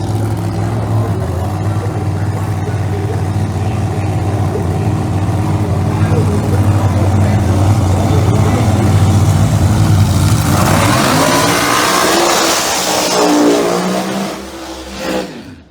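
Screw-blown Chevrolet Corvette Pro Mod drag car roaring through a long, loud burnout at the drag strip, the engine note climbing and then trailing off as the car rolls away, with an announcer talking over it.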